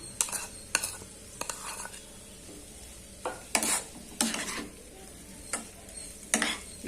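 Okra is sautéed in a pan for a Tamil poriyal. A spatula stirs and scrapes in sharp, irregular bursts of clatter and scraping over a quiet, continuous sizzle, with no one speaking.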